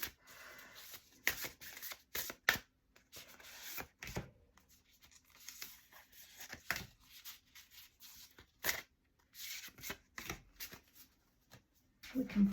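Angels and Auras Oracle card deck being shuffled, repeated quick riffling bursts of card edges slapping together, close and quiet, in irregular clusters with short pauses between.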